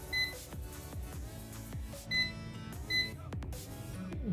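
Mextech DT36T AC/DC true-RMS digital clamp meter sounds a few short, bright electronic beeps in continuity mode, sharp tones separated by brief gaps amid faint handling clicks.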